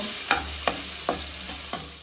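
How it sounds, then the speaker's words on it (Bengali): Bitter gourd pieces seasoned with turmeric and salt fry in hot oil, a constant close sizzle marked by four evenly spaced stirring scrapes of a spoon against the pan. "উচ্ছাটা ভালো করে ভেজে নেব"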